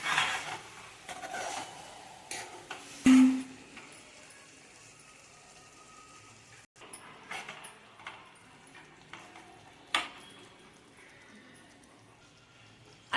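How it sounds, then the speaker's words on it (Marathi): Stuffed brinjal being stirred and sautéed in a kadhai, sparse soft clinks and scrapes of a spatula against the pan with quiet pauses, faint and intermittent throughout. "वांगी चांगली परतून घ्यायची."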